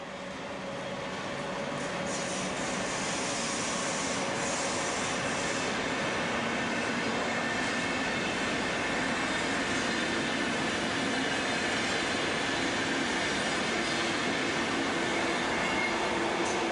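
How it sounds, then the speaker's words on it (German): A DB Class 103 electric locomotive hauling an InterRegio train from Hamburg to Konstanz pulls out of Kassel-Wilhelmshöhe station, producing a steady, loud rolling rumble with a faint high whine that swells slightly over time. "In Kassel-Wilhelmshöhe macht sich ein IR Hamburg-Konstanz auf den Weg."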